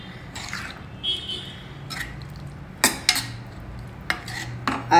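A spoon scrapes and clinks against a pot as beaten curd is stirred into avial, with several sharp metallic knocks between softer, thick stirring sounds.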